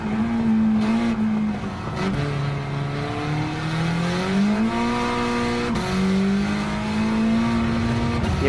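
Honda race car in Gran Turismo 7 revving hard, its engine note climbing and dropping through gear changes with brief tire squeal, loud and continuous with no voices.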